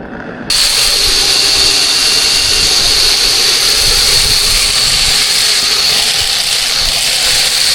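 A grain vacuum starts abruptly and then runs with a loud, steady roaring hiss and a high whine, close and unbroken to the end.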